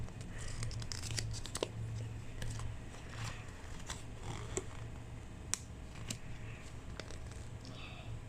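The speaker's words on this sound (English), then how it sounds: "Now let's open the flyer." Paper flyer from a toy package being opened and unfolded: close, continuous crinkling and tearing rustles with sharper crackles scattered throughout, at moderate volume with no talk.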